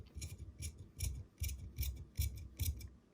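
Tailor's shears cutting suit fabric while cutting out a British-style bespoke jacket, snipping in a steady repeated rhythm of about eight close, crisp cuts with a soft low thud under each one.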